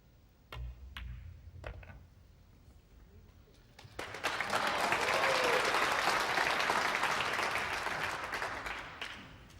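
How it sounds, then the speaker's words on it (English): Crowd at a professional pool match, the World Pool Masters, bursts into loud applause and cheering after a few sharp ball clicks, the roar swelling and holding strong before tapering at the end. "just listen to the cheer again"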